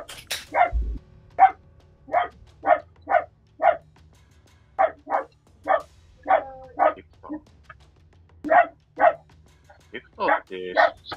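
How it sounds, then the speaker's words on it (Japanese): A dog in a PUBG match barks repeatedly in short sharp yaps, about fifteen evenly spaced barks at moderate distance against a quiet background. "犬いいな。"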